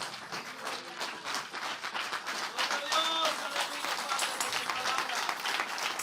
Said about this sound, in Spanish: Póngase de pie y apláudalo, apláudalo con fuerza.